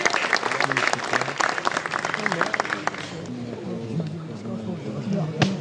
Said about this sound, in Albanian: E ftojmë tu në skenë, shoqërojmë me një duartrokitje.